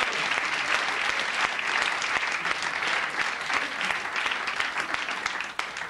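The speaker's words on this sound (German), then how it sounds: "ich glaube, das ist ein kleiner Applaus" An audience at a cabaret show applauds with dense, sustained clapping that holds steady for several seconds before thinning out at the very end.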